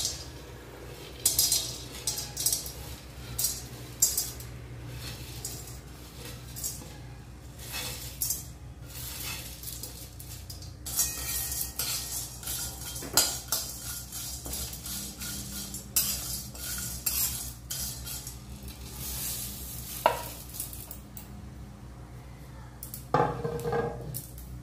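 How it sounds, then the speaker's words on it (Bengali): Whole spices such as cardamom, peppercorns, cumin, cloves, bay leaf, fennel and cinnamon dry-roast in a dry wok, heard as quiet rattling and repeated scraping clinks of a spatula in irregular bursts over a faint background hum. "এখন আমি শুকনো কড়াইতে এগুলো এক এক করে দিয়ে ভেজে নিচ্ছি।"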